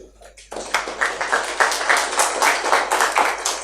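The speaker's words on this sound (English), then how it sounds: "So huge round of applause for you guys" Scattered clapping from a conference audience at Meet Magento India 2020 starts abruptly after a short voice and continues as uneven bursts of hands, close and fairly loud.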